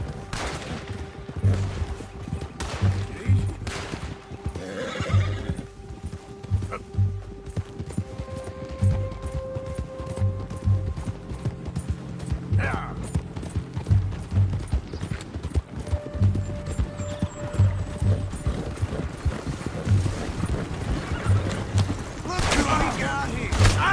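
Horses clip-clop steadily and whinny amid bursts of gunfire in the Red Dead western game, a busy mix of hooves, shots and occasional voices running throughout.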